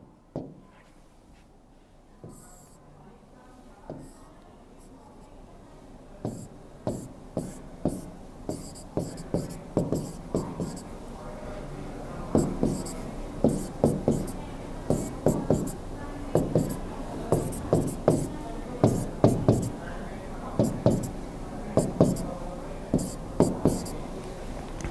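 A marker or chalk strokes across a board while a chemistry structure is drawn in a classroom lecture, giving a string of short scratchy taps and squeaks that come faster and closer together as the drawing goes on.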